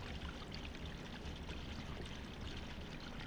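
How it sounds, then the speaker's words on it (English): Water runs steadily in Hello Neighbor, a constant pouring hiss at moderate level with no breaks. "Wait, is the water still going?"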